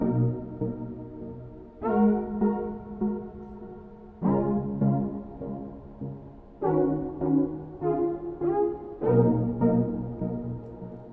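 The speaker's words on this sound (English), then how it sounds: "I just copied over the melody onto the retro synth." A melody played on the Retro Synth in Logic Pro X for an Afrobeats production, a series of bright plucked synth chords and notes in a steady repeating phrase, with no talk.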